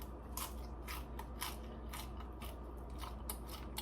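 Crisp, close crunching from someone biting and chewing a fresh salad with cucumber, a quick series of sharp bites repeating in a steady rhythm.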